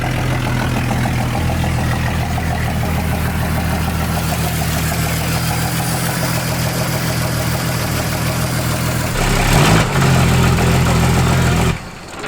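A 1971 Chevy Malibu engine idling steadily with a rough low rumble, loud and close, swelling briefly near the end before cutting off, with no talking.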